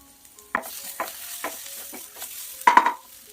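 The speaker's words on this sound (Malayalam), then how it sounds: "ഇതെല്ലാം കൂടി നല്ലതുപോലെ മിക്സ് ചെയ്യണം ഈ പൊടിയുടെ പച്ചമണം ഒന്ന് മാറി വരണം തീ മീഡിയം ഫ്ലെയിമിലിട്ടിട്ട് വേണം ഇതൊക്കെ ഒന്ന് വഴറ്റിയെടുക്കാൻ" Spice powders are stirred and sautéed over medium flame in a pan for an okra curry, with a series of distinct spoon scrapes about every half second over a soft sizzle, ending in a louder scrape, close by, no speech.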